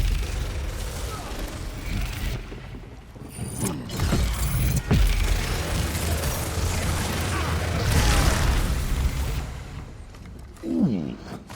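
A desk drawer lock in Elder Scrolls Online gives off mechanical clicks, creaks and a ratcheting latch sound over dense game ambience, with a sharp thump partway through.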